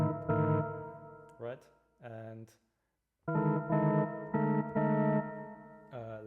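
Strange, inharmonic-timbre synthesizer chords from a PitchGrid demo sound in sustained, stacked blocks, several chords in a row with a short gap between them, and a few spoken words slip in near the start.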